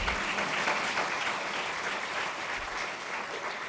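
An audience at a speech at OU Health Sciences Center breaking into sustained applause, a dense steady wash of many hands clapping, fairly loud and even throughout.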